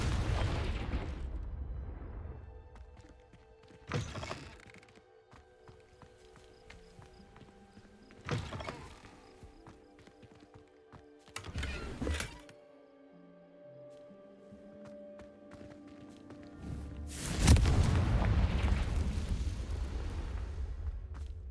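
The Confringo blast spell in Hogwarts Legacy goes off as a few sharp, booming bursts spread across a quiet, ambient scene. The last and loudest blast ends in a rumbling roar.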